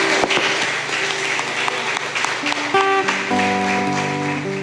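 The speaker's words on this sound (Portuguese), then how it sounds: "Vamos aplaudir o Senhor com alegria." A church congregation claps together over sustained music, with steady applause and held instrumental tones filling the space.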